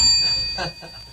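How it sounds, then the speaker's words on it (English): A small bell rings out near and loud at the start and then fades. A voice breaks in briefly midway over the fading ring. "Ring your bell."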